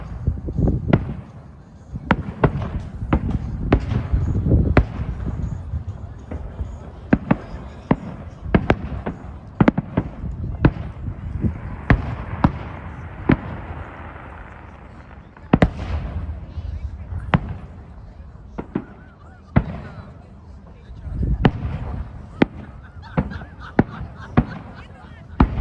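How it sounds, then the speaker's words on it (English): Fireworks burst over Ashbridges Bay in Toronto on Victoria Day, a long irregular string of sharp booms and crackles, some close and loud, with voices and rumbling crowd noise between the blasts. "I'm watching the fireworks."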